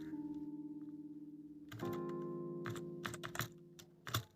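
Python code is typed on a computer keyboard as scattered, quiet key clicks over a steady low hum, with one louder click near the end.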